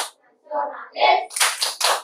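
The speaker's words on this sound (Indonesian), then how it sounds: "Sekarang kita lanjutkan dengan tepuk dan salam PPK." Schoolchildren in a classroom performing a rhythmic group clap, short bursts of claps in a patterned sequence, with a brief bit of speech at the start.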